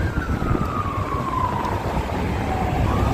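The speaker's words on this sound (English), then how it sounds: "There's the Las Vegas national anthem. An ambulance." An ambulance siren wails on a Las Vegas street, a loud sweeping tone gliding steadily downward over rumbling traffic and city noise, with no talking.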